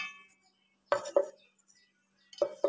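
Cashews dropped into a bowl for a milk breakfast, two pairs of close, sharp clinks against the bowl separated by quiet pauses, with no talk.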